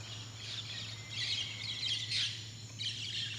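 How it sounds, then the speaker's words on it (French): Small birds chirp as a soft ambience effect in a Severance scene, with bright clustered tweets that rise and fall over a low steady hum, quiet and without talking. "elle a mis des petits oiseaux en bruitage"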